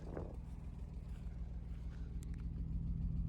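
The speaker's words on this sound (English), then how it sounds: "a little bit chattery on a very, very cold start on a vehicle that hasn't ran in over a year" A 1995 BMW M3 engine idles after a very cold start, having sat unused for over a year, giving a steady low rumble with a slight chattery edge that holds even throughout, close by and with no talking.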